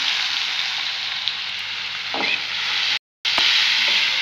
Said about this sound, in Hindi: अभी कर लेते हैं दाल को अच्छे से इसमें फ्राई।